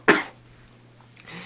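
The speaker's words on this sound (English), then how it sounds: "sorry, I had to cough" A single sharp cough near the start, followed by quiet room noise and a faint breath or murmur.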